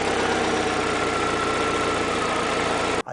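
A car engine idles steadily with a dense, even mechanical hum and faint metallic ticking throughout, close and alone, cutting off abruptly at the end; presented as an example of engine knocking.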